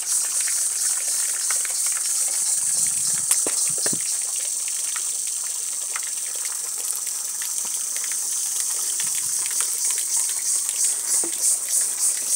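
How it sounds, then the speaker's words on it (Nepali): Water gushes steadily from a village tap whose supply comes from tree roots, a constant close hiss that runs for the whole clip with no voices. "यो रुखको जराबाट पानी आउने रहेछ।"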